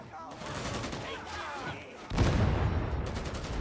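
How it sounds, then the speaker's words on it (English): A thrown grenade bursts in a first-person shooter game: a dense, loud blast erupts partway through and rolls on as a broad rumbling boom over ongoing gunfire and game noise. "Throwing grenade."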